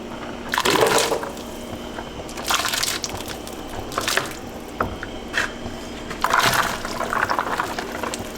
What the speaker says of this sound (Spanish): También voy a colar mis ingredientes que molí.